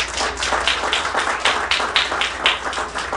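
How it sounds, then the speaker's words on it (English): Audience applause fills a hall during a political address about preserving democracy and the government of Trinidad and Tobago, a dense, steady wash of many hands clapping close and loud, with no voices. "give yourselves a round of applause"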